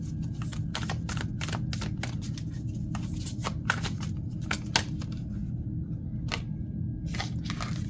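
A deck of spiritual oracle cards being shuffled close by, with rapid riffling flicks and snaps repeating over a steady low room hum.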